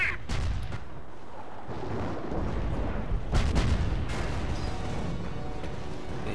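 Artillery pounds in the Company of Heroes: Opposing Fronts Caen battle, with repeated heavy booms and rumbling blasts over continuous combat din, loud and close.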